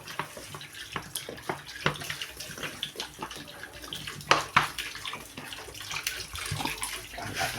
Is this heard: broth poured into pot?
yes